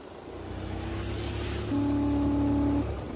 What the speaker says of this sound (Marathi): तर काय दादा गाडीचा आवाज फक्त कसा येतोय बघायचा आता